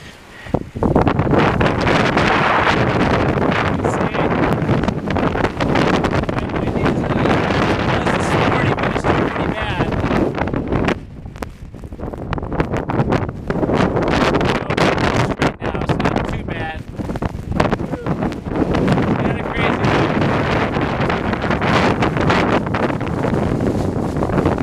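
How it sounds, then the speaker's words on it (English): Heavy blizzard wind in Colorado roars and buffets the microphone outdoors, loud and sustained with brief lulls and gusts, while a person talks at moments. "We're going to step out right now so you can see what a Colorado blizzard's like."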